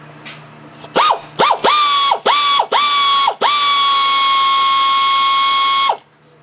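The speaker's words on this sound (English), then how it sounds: "then sticking the air ratchet" An air ratchet fitted with an extension spins out the water pump bolts on a Ford 4.0 OHV engine: several short, loud whirring bursts, then one long sustained whine up close, with no voices.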